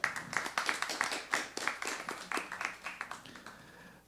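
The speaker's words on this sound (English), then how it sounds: "Please clap for Billy." A small audience at a Negro spirituals performance claps steadily for several seconds, the applause thinning slightly toward the end.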